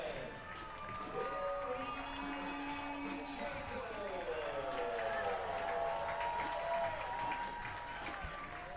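Stadium crowd at Keyworth Stadium cheering and applauding after a goal in a USL W League women's soccer match between Detroit City FC and River Light FC, a sustained roar with a commentator talking over it throughout.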